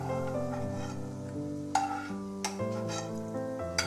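Cashews and raisins fry in a pan for vegetable biryani with a steady, soft sizzle. A utensil stirs them, with a few sharp metal clinks and scrapes against the pan.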